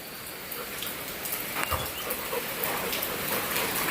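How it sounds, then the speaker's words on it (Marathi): Heavy rain pours outside in a continuous broadband wash, with a brief low thud near the middle and no speech. "किती पाऊस पडतोय"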